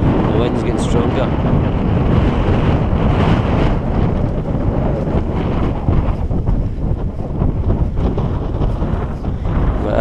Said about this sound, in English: Certainly wind's no dying down, but I think the wind's getting stronger.